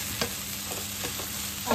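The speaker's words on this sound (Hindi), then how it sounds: "ये वाला चम्मच हम यूज़ करेंगे और इसको हम अच्छे से स्क्रैम्बल करेंगे" Egg being scrambled with a spoon in a non-stick pan for Thai egg fried rice, with a continuous loud sizzle and occasional soft scraping strokes of the spoon throughout.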